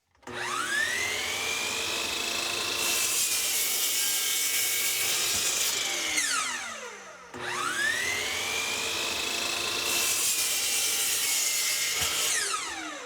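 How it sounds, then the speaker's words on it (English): A miter saw crosscuts the ends of plywood to rough length for a bathroom vanity cabinet with drawers. Two loud, close cuts each begin with a rising motor whine, grind through the wood, then fall away as the blade spins down. "I cut the ends off close to the right length that I need for these on the miter saw"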